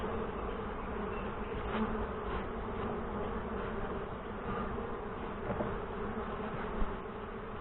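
Saskatraz honey bees swarm around a hive in Northwest Wisconsin during the nectar flow, a dense, steady buzzing drone with no break and individual bees passing close now and then.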